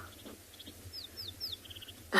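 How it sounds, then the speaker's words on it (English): A rattling cisticola calls on safari in South Africa: a few faint, quick high chirps and short downward whistles at a distance over a low, quiet background hum. "That one that's just flown up to the tree is a rattling cisticola."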